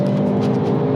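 Hyundai i30 N facelift with an 8-speed dual-clutch transmission pulls hard, its engine note holding a steady, loud tone through a brief burst of acceleration, close by and without talk.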